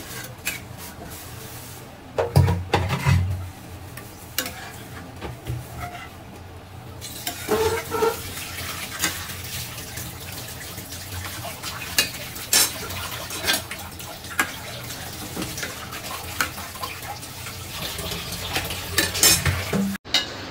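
Cow brain cooks in a pan while a spoon scrapes and stirs it, making intermittent clanks and knocks against the metal over a soft sizzle, with pauses between bursts of stirring.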